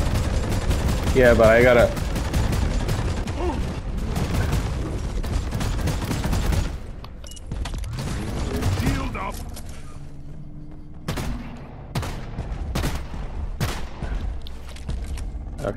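Gunfire from the co-op video game Deep Rock Galactic in an industrial sabotage mission: dense bursts of automatic fire and thuds, loud and continuous early, then sparser sharp shots, with players talking over it.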